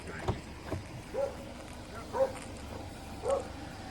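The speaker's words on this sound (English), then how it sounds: "Riley just barking to their" Several dog barks spaced a second or so apart, somewhat distant, over a quiet outdoor background by a pond at a pig farm in the Everglades.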